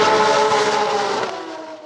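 A Subaru EJ257 rally engine revs, heard as a loud, close roar that holds steady and then eases off and fades a little toward the end.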